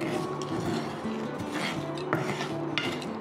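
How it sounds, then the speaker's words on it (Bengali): Dried red chillies and whole spices (coriander, cumin, black pepper) being stirred and dry-roasted in a pan, a run of close, rapid scraping and rattling scrapes with small clinks. "দিয়ে আবারও নেড়ে নেব, ভালো করে ভেজে নেব"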